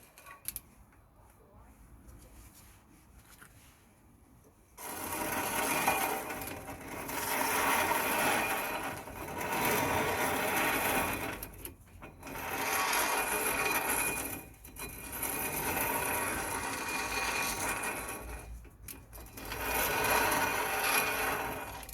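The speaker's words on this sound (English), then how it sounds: "next what we're going to do is we're going to clean the disc" Brake disc being cleaned on a 2016 Toyota Verso 1.8 VVT-i during a front brake pad replacement, with repeated rough scrubbing strokes in long bursts and brief pauses, close up.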